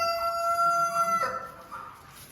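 A rooster crows loudly close by over a steady background hum, followed by a few softer clucks.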